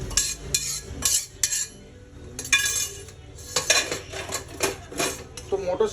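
Boiled peas go into a pan of spiced masala for ghugni chaat, with a spoon clinking and scraping against the pan in quick, uneven bursts, close and fairly loud, separated by short quieter gaps.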